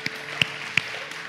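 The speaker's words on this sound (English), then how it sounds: "Let's give God a clap of praise." Three crisp, separate claps ring out in a church congregation praising God, fairly faint and spread across a brief moment, with no voices.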